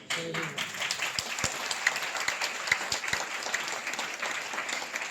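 A crowd applauds in a steady wash of clapping, moderately loud, with a few sharper claps standing out and a brief voice at the start.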